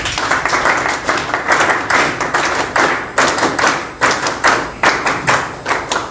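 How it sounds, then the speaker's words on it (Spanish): An audience at a debate on industrialization in Peru claps, a dense burst of hand claps with uneven rhythmic swells, fairly close and loud for several seconds. "Un aplauso."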